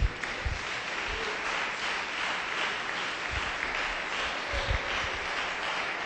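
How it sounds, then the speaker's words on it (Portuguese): Church congregation applauding during a sermon on the seven seals of the Apocalypse, giving a round of clapping that sounds fairly faint and distant in a reverberant hall, with a few louder claps and thumps close by. "Dá uma salva de palmas para Jesus."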